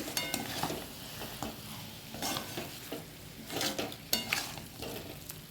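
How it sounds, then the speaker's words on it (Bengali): Chicken with yogurt stirred and sautéed in a pan for Mughlai chicken: repeated scraping stirs and clinks of a utensil over a soft continuous sizzle, close and moderately quiet, with no talking. "টক দই দেওয়ার পরে আবার কষিয়ে নেব ভালো করে"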